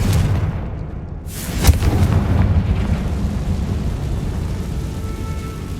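The Confringo fire spell going off in Hogwarts Legacy on PS5, a loud whooshing blast and boom followed by a rumbling roar that holds steady to the end, with no voices.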